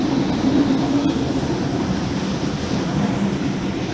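Inside a moving, sparsely occupied passenger train, a steady loud rumble of wheels and carriage fills the space, with faint rail clicks and no talking.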